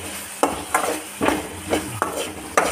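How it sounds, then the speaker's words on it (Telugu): Spoon scraping through chickpea chaat in a pan, several rhythmic stirring strokes at roughly half-second intervals with a light sizzle underneath, close and fairly loud, no talking. "ఇలా కలుపుకోవాలి."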